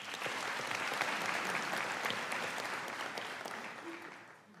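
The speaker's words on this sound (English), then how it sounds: "Can we give her a round of applause?" Sustained applause from a large audience at a university autumn graduation ceremony, a dense steady wash of clapping that slowly fades toward the end.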